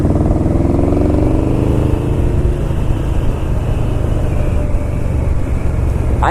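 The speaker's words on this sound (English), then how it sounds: "This VMAX pulls. What a beast." A 2005 Yamaha V-Max motorcycle accelerates hard on a test ride, its engine note climbing in pitch through the gears as a loud, continuous roar mixed with wind rush, with no voices.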